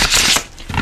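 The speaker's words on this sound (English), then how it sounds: "so I'm going to do one more shuffle" Tarot cards riffle briefly in a single quick, close shuffle, a soft, dense fluttering burst with no talking over it.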